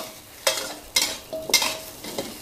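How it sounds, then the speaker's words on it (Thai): Tomatoes and herbs for tom yum stir-fried together in a pan, a spatula scraping in four distinct strokes over a gentle, steady sizzle, close by with no talking. "เนี่ยค่ะ คั่วเลย ไม่ต้องแยกคั่วทีละชนิดเนาะมันช้า"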